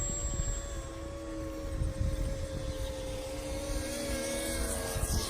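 An Open Aero VTOL model aircraft flies at low altitude, giving a faint, steady whining motor drone with a sustained tonal hum that wavers slightly in pitch, under a background of outdoor noise.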